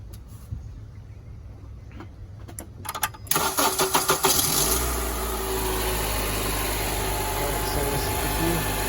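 A Honda car engine cranks with a few stuttering turns after the battery is reconnected, then catches and settles into a steady, loud idle rumble.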